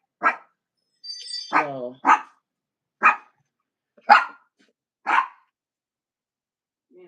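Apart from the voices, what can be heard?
dog barking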